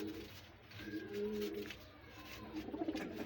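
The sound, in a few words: pigeons cooing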